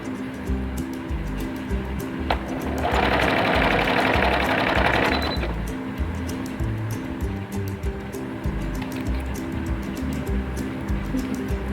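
A sewing machine stitches the seam of a kameez shirt, a loud steady whir running for about three seconds before stopping, set against a low rhythmic background hum.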